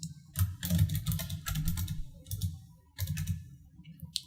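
Close, fairly soft typing on a computer keyboard: quick clusters of sharp key clicks in uneven bursts, with a brief gap partway through before the tapping resumes.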